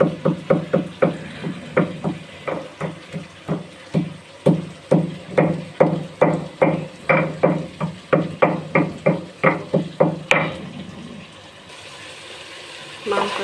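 Nutmeg and black cardamom being pounded in a home kitchen while preparing a beef curry: a steady series of sharp, close knocking thuds, roughly two per second, continuing for about ten seconds before quieter rustling.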